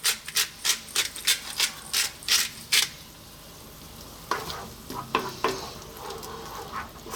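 Beans with spice and black pepper in a pan on fairly low heat are stirred in a quick run of rhythmic scraping strokes, then left to a soft, close sizzle broken by a few more scrapes.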